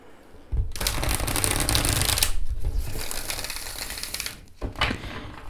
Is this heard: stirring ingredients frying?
no